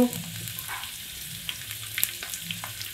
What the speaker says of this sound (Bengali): এবার হালকা একটু ভেজে নেব